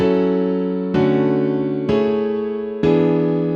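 Four sustained synthesized chords made in FL Studio 20 play one after another, each struck cleanly and held for about a second, bright and alone.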